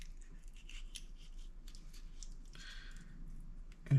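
Scissors cut through a quail tendon while the bird is being broken down for a sage saltimbocca. A short, wet snip sounds close over a soft, squishy background, with one brief thump at the end.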